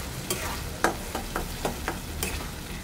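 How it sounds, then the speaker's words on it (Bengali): Spice masala being stir-fried with chunks of meat and potatoes in a pan, a soft steady sizzle broken by several distinct scraping strokes of the spatula, moderately close with no talking. "মশলাটাকে ভালো করে কষাবো"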